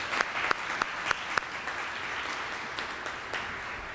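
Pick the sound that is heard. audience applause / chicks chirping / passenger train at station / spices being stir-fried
audience applause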